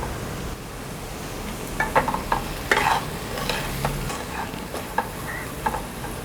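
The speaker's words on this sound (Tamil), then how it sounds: "இது கொஞ்சம் நல்லா எண்ணெயில் நல்லா வதங்கட்டும்." Mango ginger pieces fry in hot oil for a pickle, a soft steady sizzle broken by a run of scraping stirs and light clicks of the spoon against the pan.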